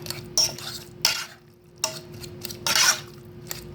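Minced garlic stirred in a pan: a handful of distinct scraping strokes from a utensil against the metal surface in an uneven rhythm, with a low hum beneath and quiet gaps between the strokes.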